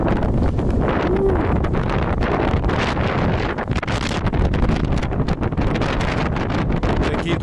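Strong outdoor wind buffeting close against the microphone, a loud, constant, rough roar with rapid fluttering gusts and no pauses throughout.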